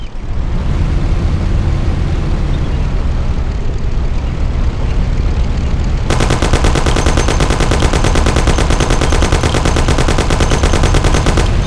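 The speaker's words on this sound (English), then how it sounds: "Take my Thompson. You and Sam shoot them." Sustained Thompson submachine gun fire in the video game Mafia, a loud continuous rattle over engine noise. It grows denser and harsher partway through as a second gun seems to join.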